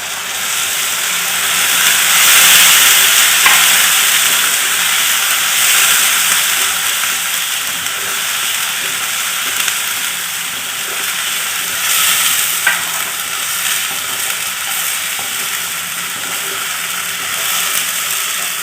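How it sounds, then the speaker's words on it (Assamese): Tomatoes frying in a pan for a fish curry, a loud, continuous hissing sizzle close at hand that holds steady and swells slightly in places, with no voices. "এতিয়া মই বিলাহীখিনি দি দিম।"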